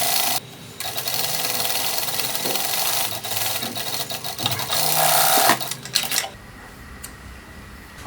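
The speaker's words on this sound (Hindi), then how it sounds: "इसी पे एक और स्टिच हमें चलानी है," A sewing machine stitches a four-dart blouse in loud, steady whirring runs, broken by short pauses and a few clicks before the motor stops near the end.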